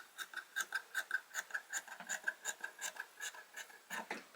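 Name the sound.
cutting knit fabric with scissors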